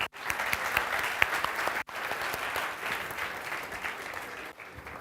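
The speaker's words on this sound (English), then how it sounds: "round of applause for yourself" An audience at a talk claps together in sustained, dense applause, loud and steady with brief breaks in the recording.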